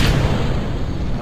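A rocket engine ignites in Kerbal Space Program, a loud, dense, continuous low roar that holds steady throughout.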